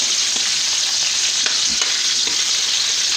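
Chicken sautéing in a pan for sotanghon guisado gives off a steady, close, dense sizzle, with faint stirring scrapes throughout and no voices.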